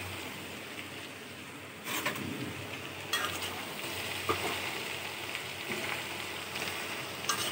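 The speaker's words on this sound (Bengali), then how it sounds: "ঢেঁড়স ভাজি করছি" Sliced okra fries in a pan on a stove, giving a soft, even hiss of sizzling oil throughout. Scattered light stirring clicks and scrapes sit on top, and there is no speech.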